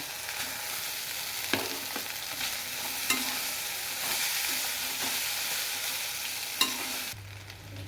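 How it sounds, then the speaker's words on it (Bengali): Chow mein noodles tossed and stirred in a hot pan give a continuous bright sizzle, with a few louder clanks of the utensil against the metal, close by and alone until the sound drops off near the end. "অল্প অল্প করে আমি এতে চাউমিনগুলো দিয়ে আমি ভালো করে নেড়ে চেড়ে নেব।"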